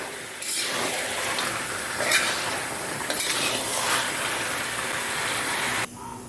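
Desiccated coconut chicken roast being stirred in a pan on the stove, a steady close hiss and sizzle with scraping, running continuously and stopping abruptly near the end.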